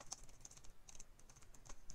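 Rapid, irregular keystrokes on a computer keyboard as text is typed, light close clicks with brief pauses, alone under a faint background hiss.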